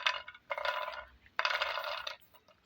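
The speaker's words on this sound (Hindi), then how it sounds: "कितने क्रिस्पी बने हैं माशाल्लाह हमारे नमक पारे" Crispy fried namak pare tumbling onto a plate, two bursts of bright dry rattling and clattering about a second each, with a short pause between them. Fairly close and unaccompanied.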